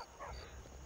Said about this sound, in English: It's an awfully big dog.